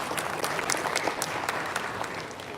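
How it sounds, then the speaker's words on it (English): Applause from an audience at a school inter-school quiz competition event: a steady patter of many hands clapping, moderately distant and unbroken for a couple of seconds, with no talking. "deserves our heartfelt applause"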